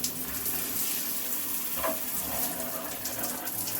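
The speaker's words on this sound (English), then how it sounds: "Turn the water on, see what happens." Shower water runs steadily from a Mira Agile shower just after a cartridge replacement, a continuous broadband hiss and spatter at close range with no pauses.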